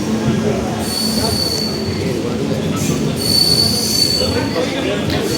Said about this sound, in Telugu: ప్లాట్ఫామ్ నెంబర్ 1 పైకి అయితే వచ్చింది మన ట్రైన్